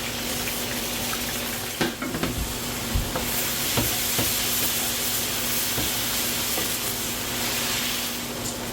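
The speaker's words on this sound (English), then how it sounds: "we're going to add our ground beef to our veggies" Ground beef frying together with vegetables in a greasy pan, giving a steady close sizzle and hiss throughout with a few scraping stirs and knocks against the pan.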